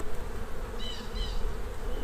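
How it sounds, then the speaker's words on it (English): A dense swarm of honeybees hums steadily over a crowded hive during a spring inspection, a close, continuous drone with no voices. "Absolutely covered with bees."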